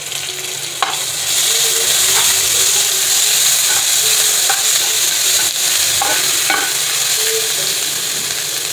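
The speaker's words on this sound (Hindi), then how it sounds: "देखिए मिर्चें फ्राई हो चुकी हैं।" Oil sizzles and hisses steadily as chilies, cumin and ginger-garlic paste fry for a tadka, with occasional stirring clinks and scrapes throughout.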